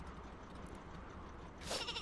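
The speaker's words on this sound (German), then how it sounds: "Ja, auch mal ein Schaf." A cartoon sheep bleats loudly near the end of a stretch of quiet game background in Worms W.M.D., a short bright wavering cry.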